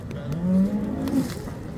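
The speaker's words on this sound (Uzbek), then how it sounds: "Bugun zo'r bo'g'oz sigirlar chiqdi lekin." A pregnant cow lowing at a livestock bazaar in Shahrikhan, one drawn-out close moo rising and falling over faint market background noise.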